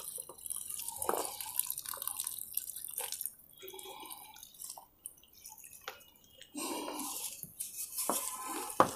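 Water poured onto the soil around a newly planted kinnow sapling in a polybag, heard as faint, irregular splashes and drips with quiet gaps between them.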